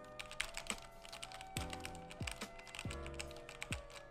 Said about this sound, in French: je vous laisse une petite séance ASMR avec le clavier